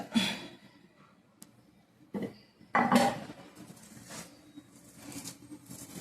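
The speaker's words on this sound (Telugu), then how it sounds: "గిన్నె కూడా ప్లేట్లో కడిగేస్తున్నాడు" A bowl and plates being washed at home, heard as intermittent clinks and clatters of dishware with splashing scrapes, close by, in short bursts separated by quieter stretches, with no talk.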